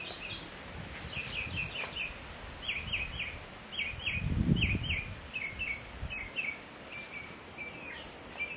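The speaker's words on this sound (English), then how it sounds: "I don't know if you can hear the birds." Birds sing outdoors in South Florida in repeated short chirping phrases, fairly distant and soft, over a quiet background with a brief low rumble midway.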